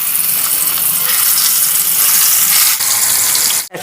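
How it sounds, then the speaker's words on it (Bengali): Spice-coated pointed gourd (potol) slices frying in hot oil, a loud, continuous close-up sizzle with a steady hiss, ending in a brief crackle. "তেল গরম হয়ে গেছে। এবার আমি এক এক করে পটল দিয়ে দিচ্ছি।"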